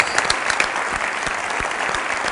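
A studio audience at the Satyamev Jayate Water Cup village competition show claps hard and steadily, a dense, even wash of applause that continues without a break.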